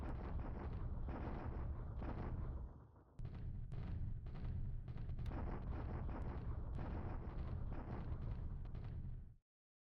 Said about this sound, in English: this time the artillery duel definitely goes in his favor